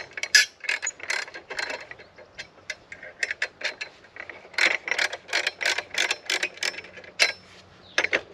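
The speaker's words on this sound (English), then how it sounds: "It uses a 1/2 inch wrench or even a scrunch tool." A half-inch ratchet wrench clicks in quick, close bursts while loosening two nuts on a chainsaw mill, the pawl rattling in repeated short strokes with brief pauses between.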